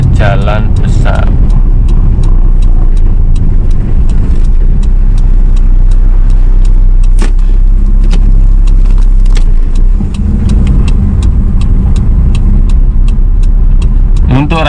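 A 2001 Hyundai Atoz GLS small car drives along with a loud, steady engine and road rumble, occasional clicks and rattles, while someone talks over it throughout.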